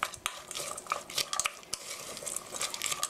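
Meat and bell peppers being tossed together in a pan, a run of clinks and scrapes from the utensil over a faint low sizzle, close and fairly quiet, no speech.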